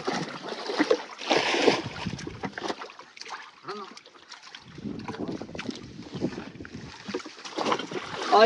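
Oars paddling a boat through water, uneven splashing and swishing surges close by, with wind buffeting the microphone and voices of people on board mixed in.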